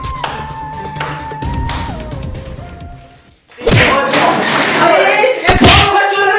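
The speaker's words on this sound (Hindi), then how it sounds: "दरवाजा तोड़ दे।" A door in a house is kicked and forced open, with loud heavy thuds and slams arriving in bursts after a brief pause, preceded by lively talk and a tonal musical sound.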